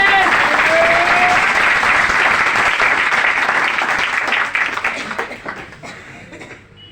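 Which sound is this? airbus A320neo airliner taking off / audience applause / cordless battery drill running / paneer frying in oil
audience applause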